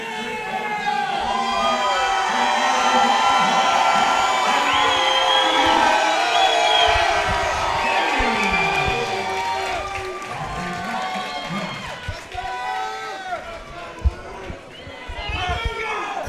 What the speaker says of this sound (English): Crowd is going wild in attendance tonight.